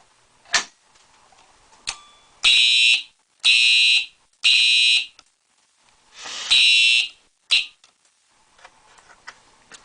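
A fire alarm panel sounds after a pull station is pulled, giving loud shrill electronic horn blasts in an irregular series of short and longer pulses separated by silences, with sharp clicks between them.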